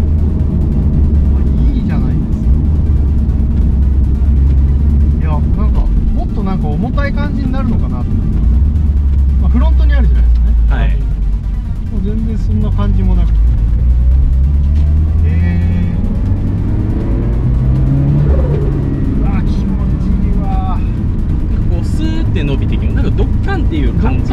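Engine of the AHEAD demo car, a turbocharged Toyota 86 fitted with a differential, drones steadily and swells as it accelerates while driving. Voices talk over it almost the whole time.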